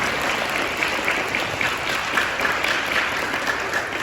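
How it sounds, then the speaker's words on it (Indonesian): Continuous applause from an audience at a karate gathering, a thick even wash of clapping at moderate loudness that runs throughout. "Tepuk tangan dulu."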